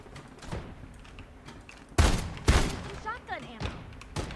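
A shotgun fires in the Farlight 84 video game, with two loud, sharp blasts about half a second apart, followed by softer clanks and a short burst of talk.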